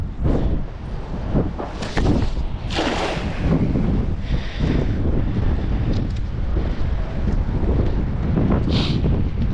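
Strong cold wind buffets a boat's upper deck, a loud continuous roar of low rumble with repeated harsher gusts and brief hissing bursts, no voices present.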